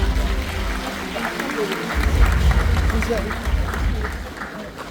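Applause welcoming a speaker at a Korean political party convention in a convention hall, a steady wash of clapping with low rumbling and murmur from the crowd.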